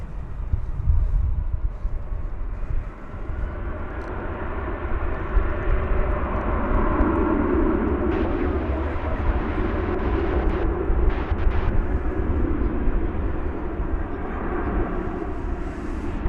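An Airbus A321 at DFW Airport roars steadily on the runway, a loud broadband engine rumble holding strong throughout with no speech.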